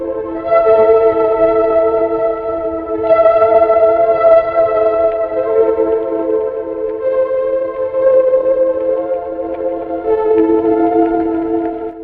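A sustained tone from the Arturia Pure LoFi synthesizer with layered harmonics grows gritty and distorted, crackling and breaking up as it drones on.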